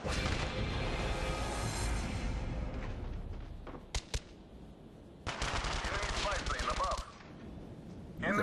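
FAMAS rifle fire in Call of Duty: Black Ops Declassified, dense rapid bursts of automatic gunfire with a couple of sharp single shots between, loud and close, with voices over the action.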